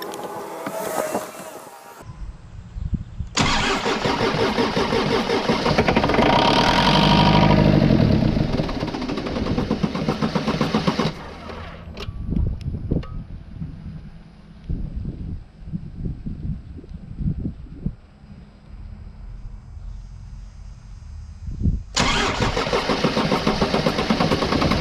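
A Jeep with a weak, recharged battery cranks in long strained bursts, stops, and goes briefly quiet with scattered clunks before cranking again, loud and close, with no talking.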